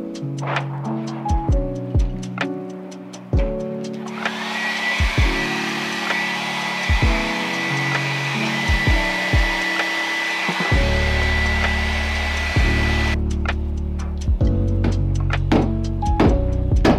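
Heat gun or hair dryer blowing steadily for several seconds to loosen a barreled action in a hunting rifle stock, a continuous whooshing hum framed by clunks and knocks of handling, close, no talk.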